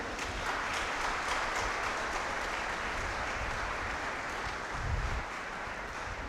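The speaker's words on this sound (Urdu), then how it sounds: "اور ان کی خدمت کے لیے زوردار تالی بجاتے ہیں۔" A church congregation claps loudly and steadily for a group of sisters at an Ascension Sunday Mass, dense sustained applause filling the hall from start to finish with a brief swell near the end.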